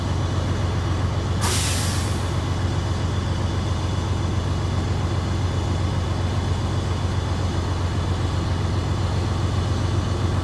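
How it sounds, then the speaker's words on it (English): Truck air brake released once during a CDL air brake test inside the cab, a single short sharp hiss of air over a loud, constant idling engine rumble. "I will be going to use my step on my service brake one time."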